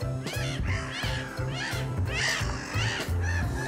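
Several birds, likely crows, caw in repeated harsh calls close by, mixed with a steady low rhythmic hum throughout.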